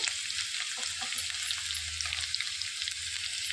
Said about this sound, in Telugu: 1/2 టేబుల్ స్పూను పచ్చెనగపప్పు వేసుకొని మంచిగా వేయించుకోవాలి